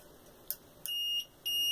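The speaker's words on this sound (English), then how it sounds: "you hear that beep. It tells me it's out of primers. It's just a out of primer alarm." An Arduino-controlled bullet feeder on a Hornady AP reloading press sounds its out-of-primers alarm when a micro switch is pressed. Sharp electronic beeps come close and clear: one short chirp, then two longer tones in quick succession.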